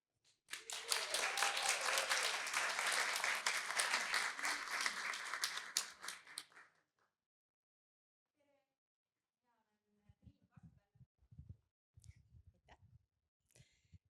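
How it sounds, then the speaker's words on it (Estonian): Audience applause at a green pitching event welcomes a speaker on stage: about six seconds of dense, energetic clapping that fades out, followed by silence and then a few faint scattered sounds and light talk. "suure aplausiga palun kutsume lavale esimese esineja"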